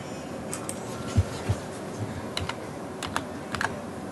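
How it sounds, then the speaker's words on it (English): Scattered keystrokes on a computer keyboard, a dozen or so quick clicks in uneven bursts with brief pauses, close and fairly quiet, no talking. "my keyboard is tweaking"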